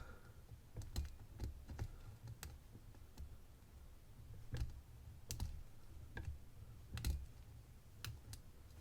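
Small metal clicks from Grim Workshop micro lock pick tools working a lock, a scattered run of faint, sharp ticks and taps over a low background rumble, close by with no talking.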